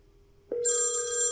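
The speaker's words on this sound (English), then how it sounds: "So let's try to place a phone call." VoIP telephone ringing on a test call: a quiet steady tone, then a loud sustained electronic ring with bright overtones kicks in and holds, close up with no talk.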